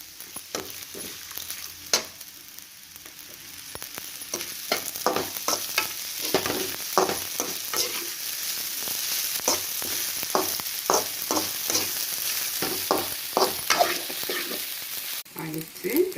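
Ragi semiya (finger-millet vermicelli), already salted, stirred in a sizzling pan, with repeated scraping strokes of the spoon over a steady frying hiss, close and fairly loud throughout, with no talking.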